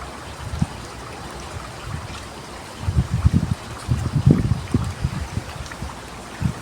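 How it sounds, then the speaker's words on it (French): A small stream flowing through a garden: a steady soft trickle that swells into louder, bubbling gurgles and splashes partway through, heard up close with no voices. "le bruit de l'eau des ruisseaux"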